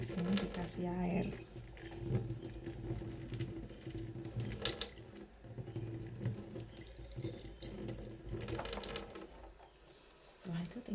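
Water runs from a kitchen tap onto a block of tofu, a continuous splashing stream shifting in tone as the flow hits the tofu, with a voice speaking over it.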